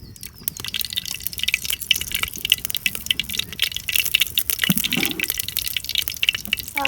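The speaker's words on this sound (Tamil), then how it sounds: "அதுக்கு நல்லெண்ணெய் ஊற்றுறோம்." Sesame oil pours steadily into a pan, a continuous crackling hiss with fine dripping and spattering close by.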